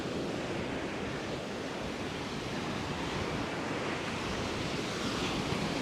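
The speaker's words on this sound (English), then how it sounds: "As we walk along the beach in Coney Island." Ocean waves washing onto the beach at Coney Island in Brooklyn, a dense continuous roar of surf with wind blowing across the microphone, loud and unbroken, no voices.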